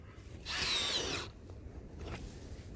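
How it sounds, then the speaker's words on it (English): An auger drilling into the ground at about a 45-degree angle outdoors gives one short, loud burst of grinding drill whir that lasts under a second, then stops. "Take an auger and run it down in there on about a 45-degree angle."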